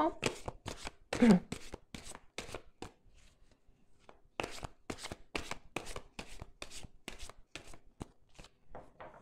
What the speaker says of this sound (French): je vais tirer 3 cartes de l'oracle coup de cœur